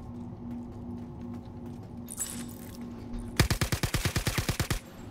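Rapid automatic gunfire in the Star Citizen video game, a close burst of about a dozen evenly spaced loud shots after a quiet stretch with a low hum and a brief hiss.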